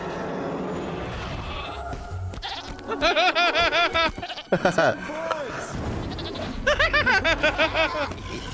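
Sheep bleat in repeated wavering bursts in the movie How to Train Your Dragon 2, loud and close, mixed with other soundtrack audio and some talking.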